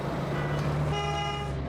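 Truck horn in the RoadCraft game, one short toot sounding briefly over a steady low engine drone.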